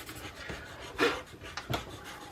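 Chalk pastel held sideways rubs across paper in short, close scratchy strokes, one stronger swipe standing out among a few softer ones.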